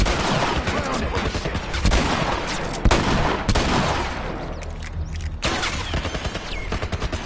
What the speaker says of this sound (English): what I'm going to do is just shoot the fuckers